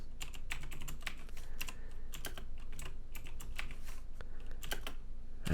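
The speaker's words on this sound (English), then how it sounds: "I'm just gonna type all of them here" Rapid, uneven clicking of a computer keyboard while PHP code is typed, close and clear with no talking over it.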